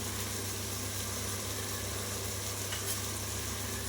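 A tomato and banana flower mixture for biryani being stirred in a pan, with a steady low sizzle and faint scraping under a constant background hum, no talking.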